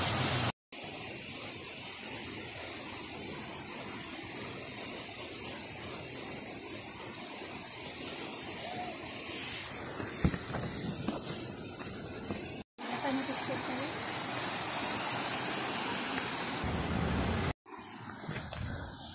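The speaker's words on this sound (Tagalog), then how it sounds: "Yan ang falls ng Natonin, Mountain Province." Waterfall in Natonin, Mountain Province, roaring as a steady broadband rush that stays loud and constant throughout, with brief cuts where the sound drops out.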